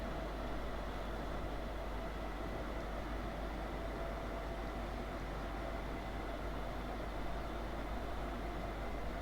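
A Class 322 electric train slowly accelerates on the Doncaster to Leeds route in Train Sim 2020, giving a constant, even rumble and hiss from the cab with no talking.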